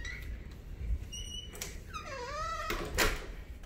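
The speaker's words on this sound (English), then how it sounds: "Close this door." A door in a small room being closed, with high creaking squeaks of the hinge, a soft thud and a latch click, all heard close up and with no talking.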